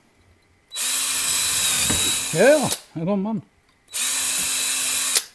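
Power drill boring a hole with a larger bit during work on a 1965 Volvo Amazon, two loud sustained whining bursts separated by a short spoken phrase.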